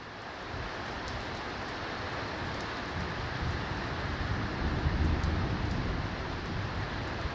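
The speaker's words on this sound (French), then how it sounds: "Ouais, la pluie s'accélère là." Steady heavy rain pours down during a strong thunderstorm, a dense continuous hiss with a low rumbling undertone that swells slightly toward the end.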